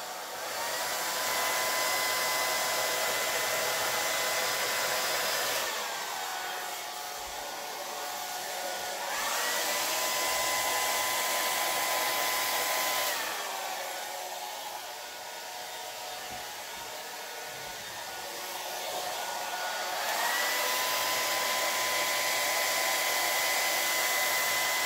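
A hair dryer blows steadily at close range through wet acrylic pour paint, its loud whooshing hum dipping and swelling as the airflow shifts, with no talking.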